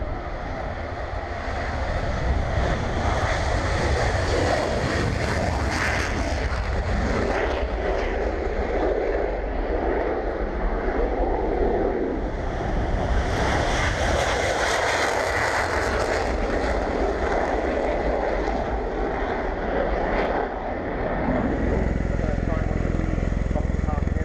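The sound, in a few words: military jet aircraft taking off at RIAT airshow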